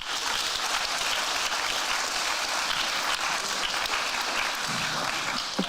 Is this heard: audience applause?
yes